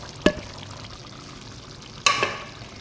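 Diced potatoes and carrots dropped into menudo in a hot pan: two sharp splashy hits about two seconds apart, each followed by a brief sizzle, with a low simmer in between and no talking.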